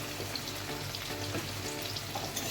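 Cubed potatoes and radish frying in oil with turmeric, salt, cinnamon and bay leaves, a dense continuous sizzle close by with faint scraping of a spoon, no voice.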